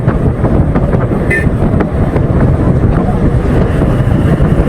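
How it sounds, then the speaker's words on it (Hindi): Strong wind buffets loudly and continuously through open car windows while driving toward Skardu, a dense rumbling roar of rushing air. "मैं आपको आवाज़ सुनाता हूँ, आपको आइडिया हो जाएगा कि क्या तेज़ हवाएं चल रही हैं यहाँ पे"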